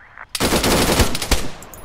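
A long, rapid burst of automatic gunfire erupts in Arma 3 combat, loud and sustained with sharp individual cracks, after a brief quiet start.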